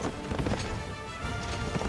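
Rapid clip-clop of a galloping horse's hooves in the Berserk Band of the Hawk video game, a quick rhythmic patter of impacts over a couple of seconds, fairly quiet and without speech.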